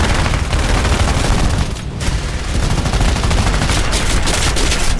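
Machine guns fired by B-24 Liberator bomber gunners of the 464th Bomb Group during WWII air combat: loud, dense continuous gunfire and booming bursts filling the whole stretch, with no voices.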